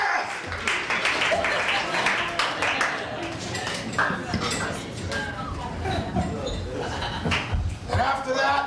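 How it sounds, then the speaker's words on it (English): Audience applause for a performer at an open mic cabaret show, steady dense clapping with some laughter and clinking tableware in the room, sustained throughout at moderate level. "Give him a rousing applause there."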